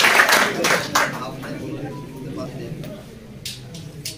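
At an award ceremony for a Kashmir pigeon sports club car cup, an audience gives a burst of clapping that starts loud and tapers off into scattered claps, with someone talking over the crowd.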